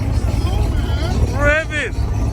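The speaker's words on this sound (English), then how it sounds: "Rev it!" A turbocharged Toyota Supra engine at a car meet revs briefly with a rising and falling whine, heard over crowd chatter and background noise.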